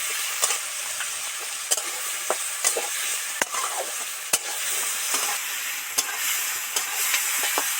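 Onion, potato and tomato pieces frying in a pan give a steady moderate sizzle, with a spatula scraping and stirring in repeated sharp strokes and no talking.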